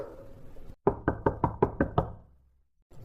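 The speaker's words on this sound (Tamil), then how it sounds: "யாரோ கதவு தட்டுறாங்க" Six firm knocks on a door in quick, even succession, close and loud, with a brief quiet gap before and after.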